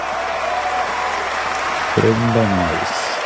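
A short burst of crowd applause and cheering from a Free Fire video game emote plays over a steady background hum, joined by a rising synthetic chime near the end.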